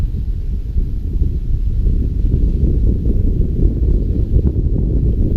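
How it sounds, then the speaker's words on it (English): Strong gusty wind at a lake buffets the microphone with a constant low rumble and roar, steady throughout with no voices. "the weather will tell you that it's pretty windy"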